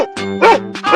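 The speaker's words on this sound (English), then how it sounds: "dog" Cartoonish dog barks from an animal-guessing escape room challenge, three or four short yapping barks in quick succession, loud and close with no talk over them.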